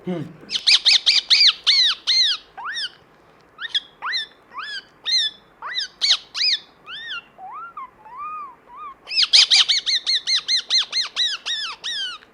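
A mimic imitates a flock of parrots, voicing rapid bursts of shrill, rising squawks in quick succession, with a short pause of lower warbling calls in the middle, loud and close.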